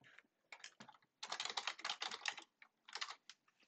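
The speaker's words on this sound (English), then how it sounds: "We have to click in here and hit enter." Quick bursts of typing on a computer keyboard with a few separate key strikes, close and clear, including a press of the enter key, with no talking.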